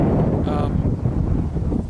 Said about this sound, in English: This wind that we're dealing with right here will peel a paper target clean off a backer